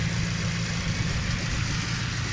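A Nissan Micra converted to rear-wheel drive, with rust and tyres needing work, idles steadily just after starting, a constant low engine drone close by with no talk.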